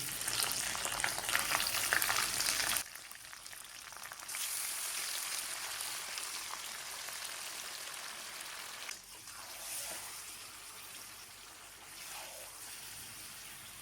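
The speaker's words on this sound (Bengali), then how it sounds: "এবার ম্যারিনেট করা চিকেন দিয়ে দিচ্ছি" Marinated chicken for a Bengali chicken korma drops into hot oil with golden fried onions, bursting into a loud broadband sizzle that settles into a steady frying hiss, with occasional stirring close by.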